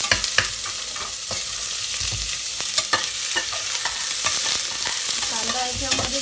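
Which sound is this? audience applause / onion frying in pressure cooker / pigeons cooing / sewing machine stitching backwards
onion frying in pressure cooker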